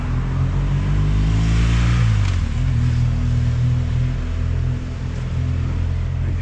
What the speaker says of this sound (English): a few cars are going up and down